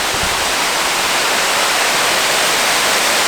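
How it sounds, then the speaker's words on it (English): A waterfall beside a hiking trail on the Fiery Gizzard backpacking route roars in a loud, steady, unbroken rush of falling water close by, with no other sounds above it. "there's a waterfall right here on the left"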